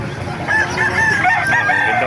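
A rooster crows loudly amid a crowd of clucking chickens at a chicken market in Calumpit, Bulacan, close and busy, with no talk over it.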